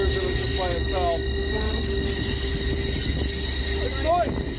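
An excursion train runs on its rails with a heavy, steady rumble, and the wheels squeal in brief, rising screeches at intervals.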